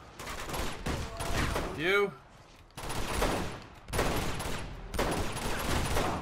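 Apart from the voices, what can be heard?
gunfire in the video game Uncharted 2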